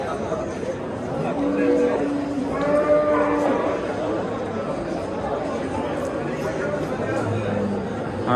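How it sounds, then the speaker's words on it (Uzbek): An ox lets out a low, drawn-out moo amid the steady chatter of a crowd at a busy livestock market in Uzbekistan. "yaxshi semiz ho'kizlar tushgan ekan"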